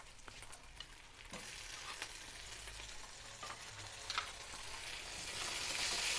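Chopped tomatoes fry with chicken mince masala in a pan, making a soft, even sizzle with occasional scraping stir clicks that grows a little louder toward the end.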